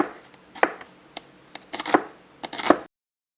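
Meat being chopped for wontons on a small cutting board, with sharp irregular knife strikes in short bursts, close and fairly loud, then a brief silence at the end.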